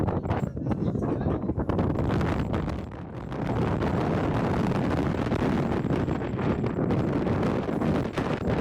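Strong, cold wind gusts steadily across an exposed hilltop on the Vasimalaiyan hills trek, roaring and buffeting close to the mic with a brief lull midway, no voices over it.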